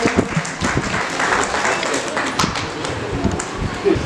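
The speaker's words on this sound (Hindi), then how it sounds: "जोरदार तालियों से स्वागत कीजिए संजीव कुमार जी का।" Applause at a residential housing society's annual general meeting, a dense wash of many hands clapping that fills the whole stretch, loud and steady, with a few sharper claps standing out.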